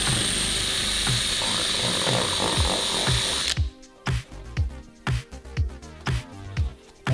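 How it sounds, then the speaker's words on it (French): A power drill bores holes into a cracked plastic car bumper to stop the crack. There is a few seconds of continuous high whirring, then a series of short, close drilling bursts with brief pauses between them. "on perce sur chaque extrémité pour arrêter la fissure"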